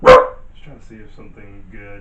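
A single loud dog bark at the start, close by, followed by a person talking over quiet room sound.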